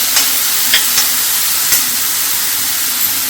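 Small-cut paneer tikka vegetables cook in a pan, a loud close sizzle and hiss broken by a few brief scraping stirs, with no voices.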